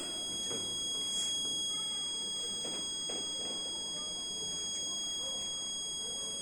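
An electronic buzzer tone from a school science exhibition CO2 display machine with Arduino Nano and servo motor holds steady, with high pitched beeping layered over a low background hum, continuous for several seconds.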